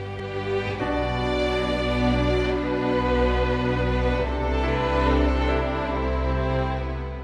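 Sustained orchestral strings play the second half of the Shirobako anime main theme, a broad, flowing melody, loud and continuous with rich low harmonics, no voices.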